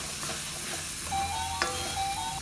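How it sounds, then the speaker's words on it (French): Masala spices frying in a pot while goat meat is being cooked: a steady close sizzle with soft stirring scrapes and one brief sharp clink, no talking. "On va faire rousser ce masala pendant 1 minute."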